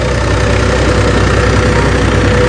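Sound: HMT tractor engine running

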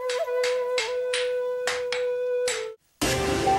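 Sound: swordsmith hammering glowing katana steel

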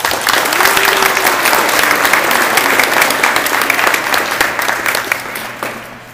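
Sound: audience applause at a science fair

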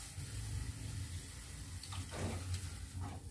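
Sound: pouring boiled and cooled milk into semolina

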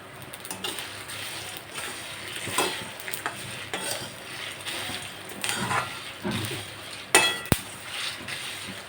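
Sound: garlic frying in a pan for neem flower powder

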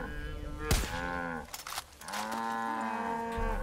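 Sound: cows mooing in the video game Far Cry 5

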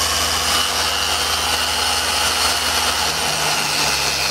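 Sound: polishing machine converted from an angle grinder spinning

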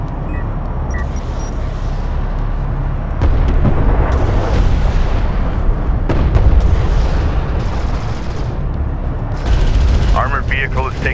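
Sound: explosions and gunfire from the video game Homeworld: Deserts of Kharak

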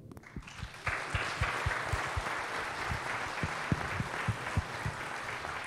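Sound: applause

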